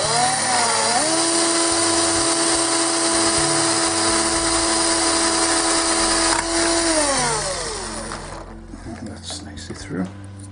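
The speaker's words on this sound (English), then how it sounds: "So my usual starting drill bit." A power drill with a small starting bit bores a hole, its motor whining loud and steady with pitch sliding as the bit bites, then winding down into quieter handling noise.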